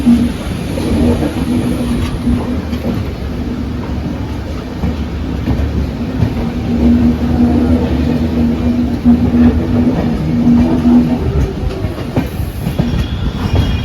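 The Howrah–Bolpur Shantiniketan Express passenger train runs along the track, with a loud, continuous rumble, rhythmic wheel clatter and a steady low hum heard from on board.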